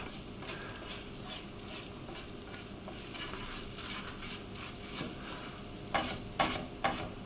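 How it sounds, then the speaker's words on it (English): Sage, garlic and black pepper sizzle steadily in a frying pan, with occasional stirring scrapes and a few sharper clinks near the end, close and moderately quiet. "I'm going to add my herbs, black pepper and garlic. I'm just going to get them started"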